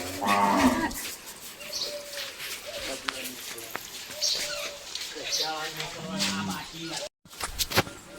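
Cows at a household cattle shed moo several times in low, drawn-out calls spread across the stretch, with people talking nearby and a few shuffling footsteps.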